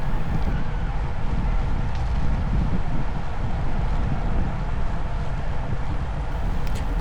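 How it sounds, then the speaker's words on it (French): Steady, loud headwind rushes and buffets across the microphone during an amateur road cycling race, without a break, a continuous low roar filling the whole stretch. "En plus, on est vent de face."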